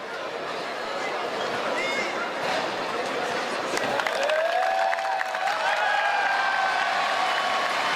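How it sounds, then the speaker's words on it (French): Crowd applause and cheering rise at a Lyon football training session for Aurel Mangala's return, a diffuse mid-distance sound with a voice talking over it and a whistle-like tone sliding through. "les applaudissements a priori sont pour Aurel Mangala qui fait son grand retour"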